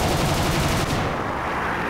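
Aircraft machine guns fire in a dense, loud rattling burst in War Thunder from a G.55S fighter, rapid rounds over an engine drone that eases off partway through.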